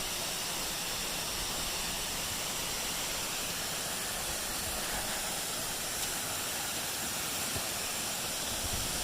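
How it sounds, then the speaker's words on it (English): A waterfall in Kippens, Newfoundland roars steadily and close by, a dense, unbroken rush of falling water filling the whole scene with no other sounds. "The hidden waterfalls of Kippens,"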